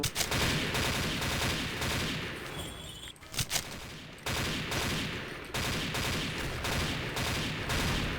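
Rapid bursts of automatic gunfire from the shooter game XSHOT, loud and close, with repeated volleys separated by brief pauses across the whole stretch.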